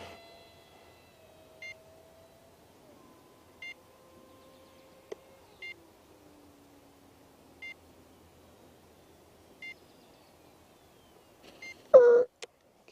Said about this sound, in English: shut off that annoying alarm